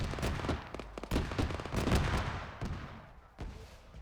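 Machine gun bursts and shell fire crackle through a video game battle, dense rapid cracks and booms overlapping in a loud volley that thins out toward the end with a final blast.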